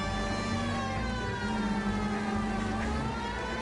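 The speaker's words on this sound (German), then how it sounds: "Sirene." A steady wailing siren from the video game L.A. Noire on PS3 rises and falls under a constant engine drone and rumbling traffic noise, with no voices.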